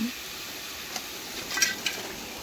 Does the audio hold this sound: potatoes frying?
yes